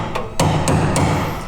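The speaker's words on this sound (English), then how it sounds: "the slow and painful way apparently, you hammer and chisel." Hammer driving a chisel into a rusty floor patch on a 1972 Chevy Nova, several sharp metallic strikes over a loud steady background hum.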